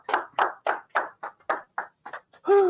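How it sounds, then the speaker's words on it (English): Hands clap about nine times in an even, deliberate rhythm, crisp and close with clear gaps between strokes, after a group affirmation session. A short vocal sound closes the sequence. "Please a round of applause for yourselves"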